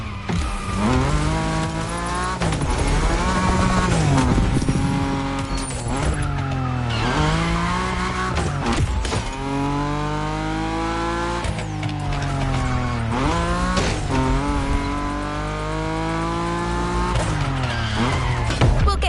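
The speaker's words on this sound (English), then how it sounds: "You're about to drift with a 1969 Shelby geared up in a JDM fashion" A 1969 Shelby set up in JDM style drifts, its engine howling and tires squealing loud and close in long rising and falling sweeps that continue without a break.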